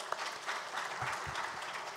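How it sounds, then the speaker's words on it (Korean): A church congregation applauds at a Korean youth service, steady, fairly soft clapping from many hands filling the room for a couple of seconds. "우리 하나님께 박수로 영광을 올려드릴까요?"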